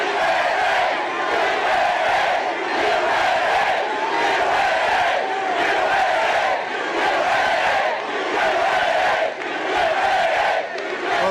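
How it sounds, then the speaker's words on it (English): A large political rally crowd in Latrobe, Pennsylvania, roars and cheers continuously, a loud, dense wall of voices that swells in waves and chants rhythmically. "big crowd."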